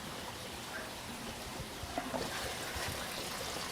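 Water trickles and drains steadily back through a coarse foam filter mat in an aquaponics system, a soft continuous dribble with a few faint splashes.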